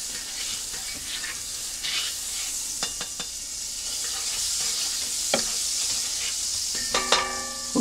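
Butter sizzles in a hot cast iron pan, a loud, even hiss throughout with a few light clicks and taps of utensils and no talking.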